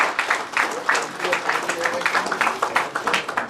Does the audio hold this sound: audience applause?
yes